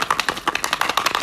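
Rapid rhythmic rattling and sloshing, a bottle of baking soda and vinegar shaken hard over and over at a steady fast pace, close by.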